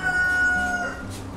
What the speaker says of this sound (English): cockerel for a neighbour